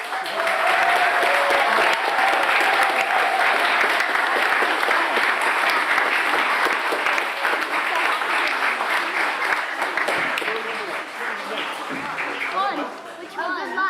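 A school audience applauds after a Key Stage 2 Peter Pan production, sustained dense clapping from a large crowd with murmured chatter mixed in, thinning slightly toward the end.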